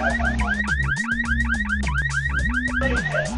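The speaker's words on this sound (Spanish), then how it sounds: "Estas alarmas de las bombas con alarma me recuerdan a las alarmas de los carros, de los automóviles, de los vehículos." Bomb alarm from the Bomberman Hero video game, a loud repeating electronic warble like a car alarm, with rising chirps cycling over a steady low tone and no voices.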